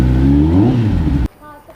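A Kawasaki ZX10R superbike engine blips in a loud, close rev that climbs in pitch, then cuts off abruptly, leaving quiet background.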